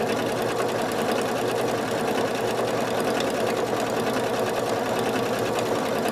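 A sewing machine stitches through a heavy quilt, its rapid needle action forming a fast, even, continuous mechanical chatter close by with no voices.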